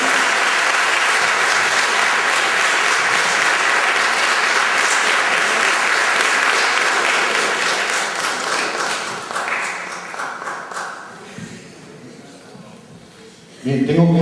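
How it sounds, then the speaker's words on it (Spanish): A film festival award ceremony audience applauds loudly and steadily, then the clapping thins and fades over the last few seconds before a burst of sound at the end. "Aplauso."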